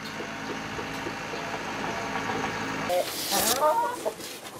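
Chickens on a poultry farm cluck in short bursts over a steady mechanical hum, with a few sharper calls near the end as the background drops away.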